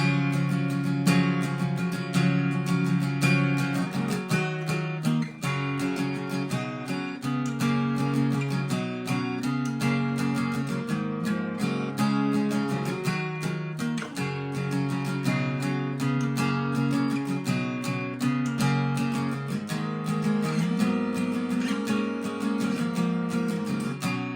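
A strummed acoustic guitar plays steady chords in a continuous rhythmic pattern, loud and close, with no voices over it.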